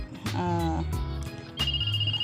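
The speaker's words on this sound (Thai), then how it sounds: "เสียงโทรศัพท์ มีหลายเสียงเลยถ้ากดซ้ำๆกัน" A bright electronic toy phone ringtone plays in short melodic bursts, loud and close, cutting off and restarting several times in quick succession.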